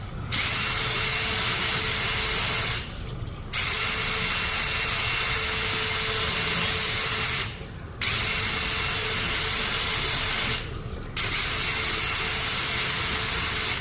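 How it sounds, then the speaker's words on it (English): An impact driver whirs loudly in three long bursts while working on a French horn, each cut by a brief pause, with a buzzing, rattling mechanical tone up close. "Use an impact driver instead of a normal driving drill"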